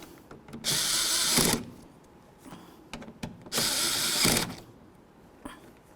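A power drill snugging up the door latch mounting bolts on a 2007-14 Ford Edge, two loud whirring bursts of about a second each with quieter clicks and handling sounds between.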